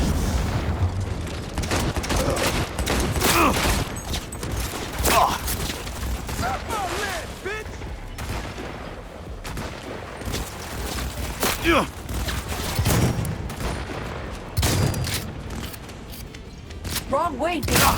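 Shotgun blasts from Cyberpunk 2077: Phantom Liberty ring out repeatedly as loud, sharp booms scattered through a chaotic firefight, with voices talking over the shooting throughout.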